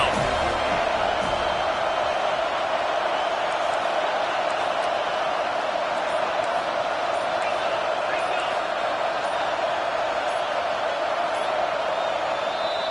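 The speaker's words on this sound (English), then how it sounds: "Decibels rising as the crowd gets behind this defense on third down." Loud, sustained roar of a football stadium crowd cheering for Clemson's defense on third down, a dense unbroken wall of noise for the whole stretch with a commentator talking over it.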